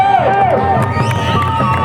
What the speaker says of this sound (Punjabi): ਤਾੜੀ ਮਾਰ ਦਿਓ ਪਿੰਡ ਵਾਲੇ